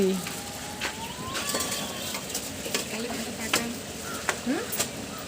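Meat being cooked by Kali di in a hotel kitchen, with a steady sizzle and repeated scraping of a utensil against the pan, close by, with faint voices and kitchen clatter in the background.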